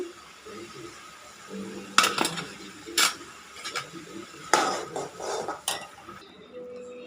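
Hot jowar mutton soup ladled into serving bowls, with several sharp clinks of utensils against dishes at irregular intervals over low kitchen background.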